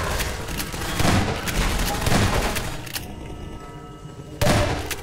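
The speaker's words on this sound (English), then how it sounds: "This shotgun has massive range, as you guys know." Shotgun blasts in the game Half-Life 2: Episode Two, dense booming gunfire amid game noise, with a pause near the three-second mark and a final loud blast near the end.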